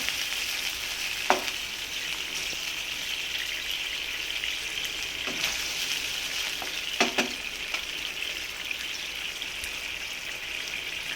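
Chicken fries in a pan as sweet soy sauce is stirred in, giving a steady, bright sizzle with a few soft scraping stirs, close and continuous, without speech.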